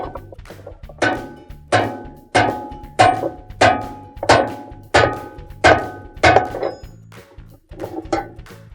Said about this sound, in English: using a hammer, we're going to tighten the hub nut